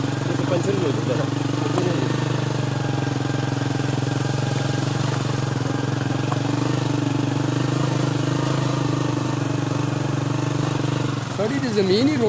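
Motorcycle engine running steadily with a constant low hum throughout, fairly faint, with brief warbling tones near the start and end.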